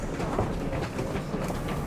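A London Underground Bakerloo line train rumbles with a steady low roar and faint rail clatter, heard from close by.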